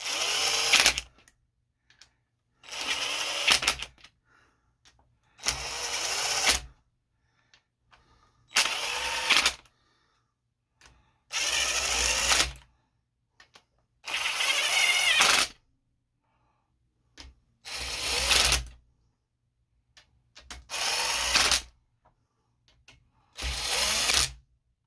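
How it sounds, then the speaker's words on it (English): A cordless drill runs down the crankshaft main cap bolts on a Honda H22A4 engine in about ten short bursts, each a loud whirring rattle lasting a second or two, separated by near silence. "I'm just going to use my drill just to bring them down now"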